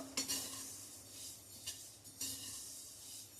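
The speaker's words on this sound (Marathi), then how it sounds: "सतत हलवत आपण हे भाजणार आहोत." A spoon scrapes and stirs through dry white sesame seeds roasting in a metal wok, with a few soft clinks and light crackling, quiet and close.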